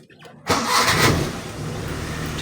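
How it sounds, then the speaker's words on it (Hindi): A used car's engine cranks and catches after half a second of near silence, then settles into a steady, fairly loud idle rumble close by. "आपने इसके अंदर बैठना है और इसको स्टार्ट करके देखना कि ये गाड़ी"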